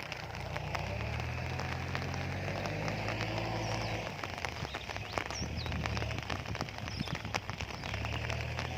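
Steady rain pours onto a flooded rice paddy during transplanting in rural Thailand, a dense continuous patter with scattered louder drops and low rumble underneath, close and fairly loud, with no talk.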